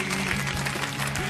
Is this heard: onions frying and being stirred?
no